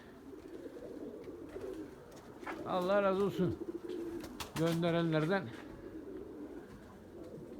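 White pigeons coo in two drawn-out bursts, each a wavering, throaty call rising clearly over steady background noise, with a person speaking briefly in between.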